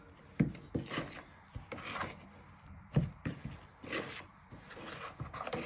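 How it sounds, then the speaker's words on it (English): Honey cake batter is gently stirred in a bowl, producing soft, close scraping and rubbing strokes with a few light knocks of the utensil against the sides. "you want to give this a gentle stir, so it all binds in nicely"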